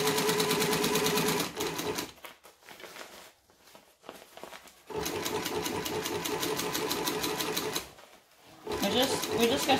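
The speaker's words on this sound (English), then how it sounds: "As I stitch around, it's pulling the binding through" A sewing machine stitches binding onto a bag in rapid mechanical bursts, close and clear. Two short pauses break the stitching, and a voice talks over it.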